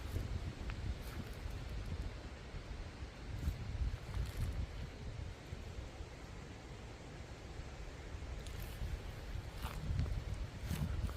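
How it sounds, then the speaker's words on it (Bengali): Strong morning wind blows beside the Teesta river at a forest resort, a steady broadband rush with gusty swells and buffeting on the microphone. "তিস্তা নদীর ধারে বলে প্রচণ্ড হাওয়া দিচ্ছে।"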